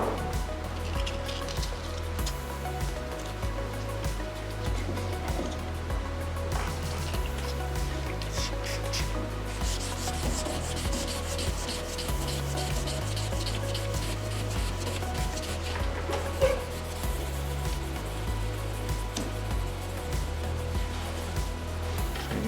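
A sanding block is rubbed back and forth over a paint run in the clearcoat of a muscle car respray, making a steady, close, abrasive scratching with rhythmic strokes throughout.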